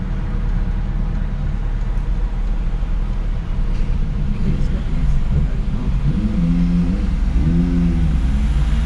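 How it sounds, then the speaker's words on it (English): A bus and a motorbike driving past a waiting learner car on a UK street, a loud engine rumble that swells and shifts in pitch as they go by, with a voice talking over it. "Now there's a bus there and the motorbike, so we'll just wait for them."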